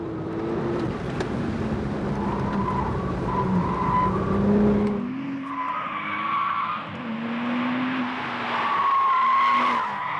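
A Porsche 911 Turbo slides for a long stretch, its tires squealing in drawn-out wavering tones over a continuous engine roar, loud and close, with the pitch shifting midway through.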